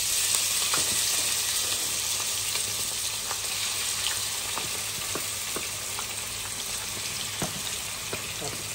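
Cinnamon, cardamom and bay leaves frying in hot oil give off a steady, close sizzling hiss with small scattered crackles and pops throughout.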